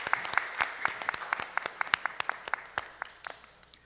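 A church congregation claps together during a Sunday service, a steady patter of many hands with sharp individual claps standing out, fairly close and sustained.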